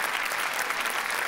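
Enthusiastic audience applause at a Marathi comedy show, a thick, even wash of clapping that holds steady throughout.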